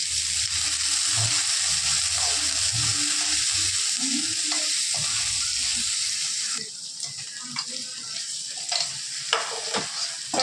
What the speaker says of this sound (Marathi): आता टाकत आहोत आपण पनीर थोडंसं तेल टाकत आहोत